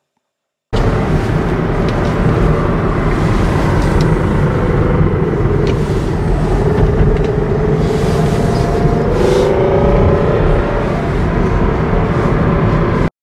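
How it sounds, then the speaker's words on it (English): A failing Kia e-Niro electric motor makes a loud, continuous grinding rumble, the milling noise of the fault, steady and close throughout with no talk over it. "So that's what they refer to as the milling sound."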